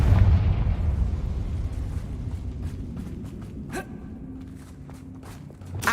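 In the Hogwarts Legacy video game, a Confringo spell bursts with a loud, deep booming blast that rumbles and fades over several seconds, with faint pops and thuds trailing after.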